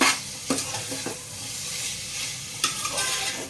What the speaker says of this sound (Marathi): आता हे मी परतून घेते.